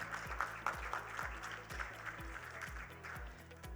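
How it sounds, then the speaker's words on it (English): Audience applause fills a formal valedictory hall, a moderate patter of clapping layered with a rhythmic low thumping, held steady for a few seconds. "May I request for a round of applause, please, to welcome him."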